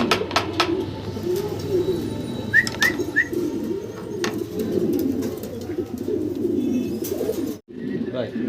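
Fancy pigeons, including black checker and red indigo pairs, coo softly in a loft amid a steady wash of background noise and brief chirps, with a few faint bird calls standing out around the middle.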